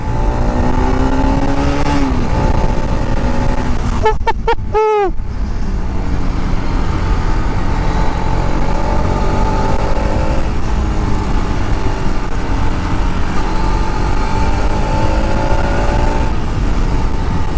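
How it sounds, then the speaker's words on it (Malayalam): A motorcycle's deep, rumbling exhaust drones steadily while riding, its pitch rising and falling as it revs, loud and close throughout. "ഇവൻ്റെ ഒരു എക്സോസിനോട്ട് കേൾക്കണുണ്ടല്ലോ, അതൊരു പ്രത്യേക സുഖം തന്നെ കേട്ടോ"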